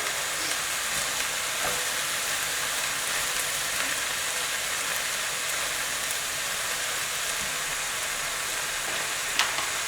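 Crushed onions with added butter sizzle in a pan, producing a steady, even frying hiss for about ten seconds with only faint scattered crackles and no voices.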